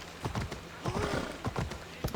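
Video game hooves clip-clop in a quick rhythm, broken by a short whinnying neigh, close and moderately loud with no talking, from a Pegasus in Assassin's Creed Odyssey.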